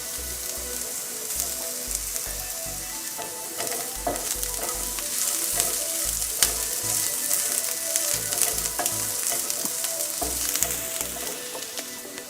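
Ingredients frying in a pan for an Andhra-style cucumber curry, a steady crackling sizzle with bursts of popping and occasional scraping as they are stirred, close and continuous with no voices.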